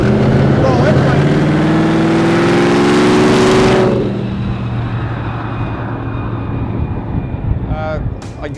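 Loud revving of a twin-engine supercharged 1927 Ford hot rod, a dense roaring engine note for about four seconds that then drops to a steadier, quieter idle-like rumble.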